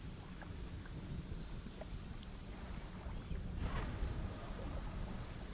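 A thunderstorm at sea in the fishing video game Dredge gives a constant low rumbling roar of rain and wind. A faint crackle of thunder swells slightly near the middle. The whole scene stays quiet and distant, with no voices.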